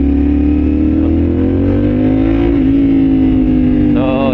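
Pickup truck speeding away from a traffic light in a street race, a loud revving engine whose pitch climbs steadily, dips briefly at a gear change, then rises again, close and without talk.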